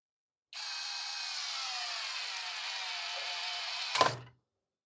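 A Tecepo 21V cordless drill drives a thin screw into a dense wooden rafter in one steady whine of about three and a half seconds, ending in a sharp clunk as the screw stalls.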